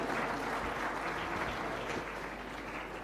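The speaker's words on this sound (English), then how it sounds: "Please give a loud round of applause" An audience at a deep tech innovation conclave applauds a panel, a steady wash of clapping from a crowded hall that stays fairly even and eases slightly toward the end.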